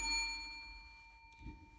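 A notification bell sound effect rings once with a bright, sustained metallic ding that slowly fades, followed by a soft low thump near the end.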